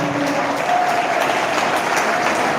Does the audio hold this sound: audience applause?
yes